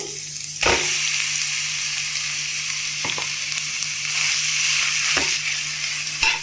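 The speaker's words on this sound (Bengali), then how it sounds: "বন্ধুরা দেখুন ঘিটা গরম হয়ে গেছে, এইবার আমরা এই গাজরটাকে" Grated carrots fry in hot ghee for gajar halwa, a steady soft sizzle with occasional scraping stir strokes against the pan, close and without talk.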